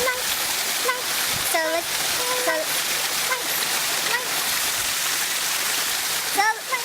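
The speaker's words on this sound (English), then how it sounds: "That's the waterfall." Steady rushing water fills the background, loud and continuous, while people talk and exclaim over it.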